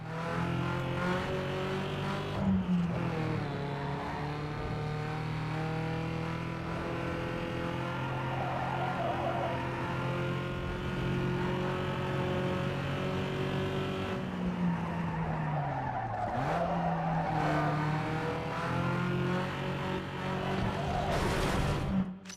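A street-racing car's engine roars and revs continuously in Need for Speed Underground 2, with tire squeals and skids near the middle, loud and sustained, while a voice talks faintly over it.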